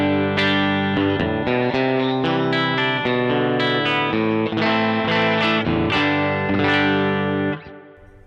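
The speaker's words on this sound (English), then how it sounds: "It's a really, really beautiful reverb." Electric guitar played through a Lovepedal Reverb Deluxe reverb pedal, a run of plucked notes and chords ringing out with a lush reverb tail that fades at the end.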